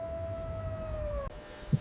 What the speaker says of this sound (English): sirens are wailing, but they sound distant now